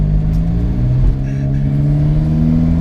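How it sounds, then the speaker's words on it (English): An Alfa Romeo 4C, fitted with a GMS TCU tune, drives in automatic while its engine hums loudly and steadily, the pitch rising gradually as it accelerates, heard up close from inside the car with no talking. "So I'll go ahead and drive the car around now and see how it performs."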